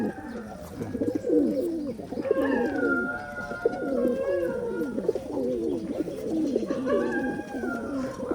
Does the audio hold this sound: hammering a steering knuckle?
no